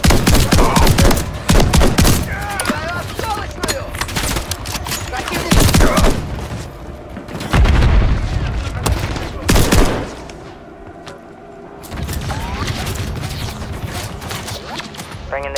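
Gunfire aimed at a helicopter in Call of Duty Modern Warfare III, with dense automatic bursts and heavy booms, loud and close, a brief lull near the end, and voices talking through it.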